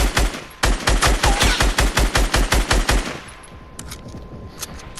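Rapid automatic gunfire from Fortnite, a loud steady burst of about sixteen evenly spaced shots over three seconds, then quieter scattered game sounds and a few faint distant pops.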